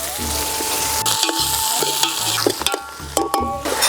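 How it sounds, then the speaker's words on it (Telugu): Medium-size onion and green chillies with cloves frying in oil in a pan over a wood fire outdoors under trees, a loud, close sizzle with repeated scraping and clanking of a ladle against the pan. "జస్ట్ ఒక మీడియం సైజ్ ఉల్లిపాయ వేసేస్తున్నా పచ్చిమిర్చి వేస్తున్నా"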